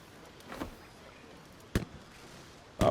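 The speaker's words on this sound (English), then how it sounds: "Oh, fireworks." Fireworks in the Baldur's Gate 3 video game go off as a few sharp, separate pops and bangs, fairly faint, over a quiet background.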